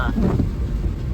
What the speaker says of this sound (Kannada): ಫುಲ್ ಮಳೆ ಶುರು ಆಗೋಗಿದೆ ಇಲ್ಲಿ